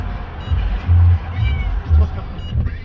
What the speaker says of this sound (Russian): Айфику надоело, что Тим мяукает, и он возле переноски встал и начинает шикать на него